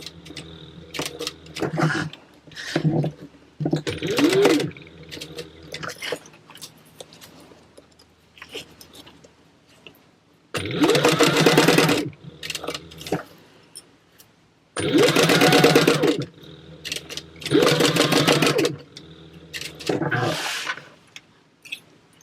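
A sewing machine stitches a leather wallet, several loud bursts of rapid needle hammering separated by pauses and quieter handling sounds, with no talk.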